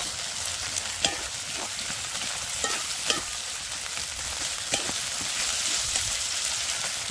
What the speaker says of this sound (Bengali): পেঁয়াজটা হালকা ভাজা হবে